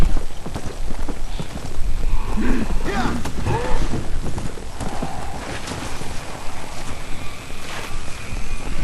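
Steady clip-clop of horse hooves in the video game Red Dead Redemption: Undead Nightmare plods along over a rough, noisy background, continuous and fairly close throughout.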